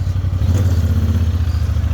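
A Honda Talon side-by-side climbs a trail under throttle, its engine a loud, close, steady throbbing drone with a regular pulsing beat and no talk.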